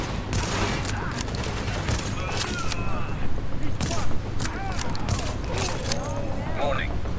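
Sniper gunfire from the video game The Division sounds as sharp distant cracks and bursts over a steady, dense game soundscape, with a voice talking across much of it.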